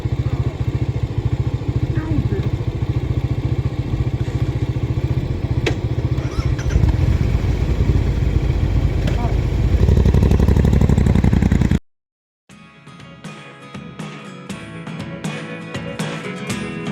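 A motorcycle engine starts and idles on a road toward Chokpot on a ride to Balpakram National Park, a loud, steady, close rumble that cuts off abruptly and gives way to music.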